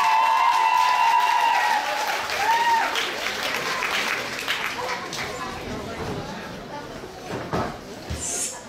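At a children's camp concert, an audience bursts into loud applause for a stage play, dense clapping that begins strong, then gradually thins and fades while a few voices mix in.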